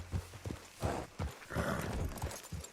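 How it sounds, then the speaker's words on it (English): Horse hooves pound in Red Dead Redemption 2, a quick run of soft, rhythmic thuds, moderately quiet and heard alone without talk. "One nice-looking horse you got there. How about we see how fast it is?"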